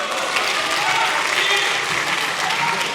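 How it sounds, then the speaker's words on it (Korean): Lawmakers applaud in the South Korean parliament chamber, a sustained, loud, even roar of many hands clapping with murmured voices mixed underneath. "국민의힘 의원들 박수를 다행히도 이어갑니다."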